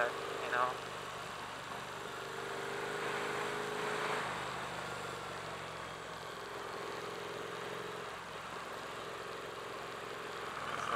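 2017 Triumph Street Twin motorcycle engine while riding on a twisty road, a steady muffled drone mixed with wind rush under a man's speech.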